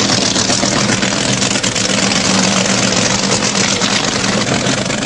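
Don Garlits' Swamp Rat vintage drag racing dragster, an engine of over 2,000 horsepower, idles loudly and close at a UK drag strip during qualifying, a constant heavy rumbling roar throughout with no voices.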